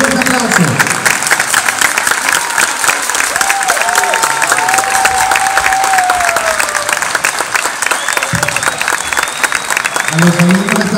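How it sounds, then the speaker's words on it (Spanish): An audience at a birthday celebration put on by a show band gives a loud, sustained round of applause, dense clapping mixed with crowd noise and scattered cheers throughout, with some voices and music-like tones over it. "que tengan todos ustedes un fuerte aplauso"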